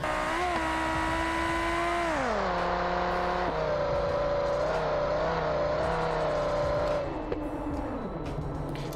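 A car races along in the BeamNG.drive driving game, its engine droning loud and steady, dropping in pitch as it shifts, then rising and wavering, with a faint knock near the end and no talk.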